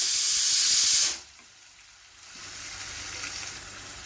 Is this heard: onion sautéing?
yes